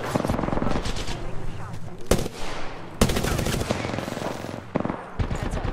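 Rapid automatic gunfire in the Apex Legends battle royale shooter, dense bursts of loud shots filling the clip with a few sharp louder cracks, while a player's voice talks faintly underneath.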